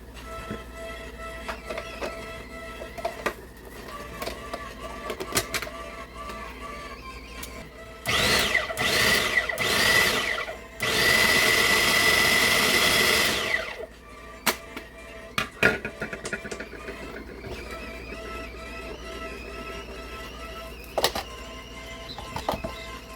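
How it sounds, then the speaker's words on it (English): A blender whirs through roasted tomatillo salsa verde for canning, in two loud, steady bursts of roughly three seconds each, the second a bit stronger, set between quieter kitchen clatter. "Let's blend this up, add it to the stock pot"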